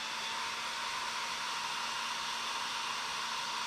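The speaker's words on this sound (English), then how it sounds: "This hairdryer doesn't even live in the bathroom anymore." An old hair dryer runs continuously at a steady, even roar with a faint underlying hum, unbroken from start to finish and with no voices.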